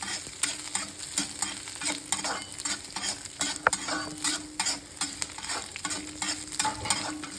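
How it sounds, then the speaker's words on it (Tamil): Curry leaves and dal sizzle in hot oil for tempering, crackling steadily while a spoon scrapes and taps the pan in a quick repeated rhythm, close up and with nobody speaking. "கருவேப்பிலை ஒரு கொத்து அது கிள்ளி போட்டுக்கிறேன்"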